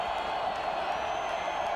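A college football stadium crowd at a New Mexico Lobos versus BYU game in Provo, 2004, as a steady, distant roar of cheering that holds at one level throughout.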